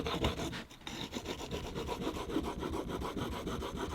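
An edge tool being sharpened on an oiled coarse stone, giving a steady rhythmic rasping rub as the steel is pushed back and forth, close and fairly loud with no talking.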